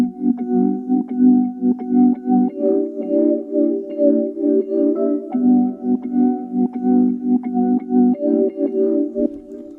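A chopped, sampled melody on a Rhodes electric piano for a lo-fi beat plays loud and alone, its mellow chords cut into short rhythmic slices that repeat in a steady loop.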